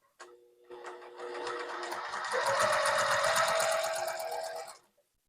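A sewing machine stitches quilt block pieces in one continuous run of rapid, even mechanical ticking and whirring, close and steady for several seconds before stopping.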